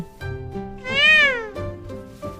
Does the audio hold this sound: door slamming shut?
no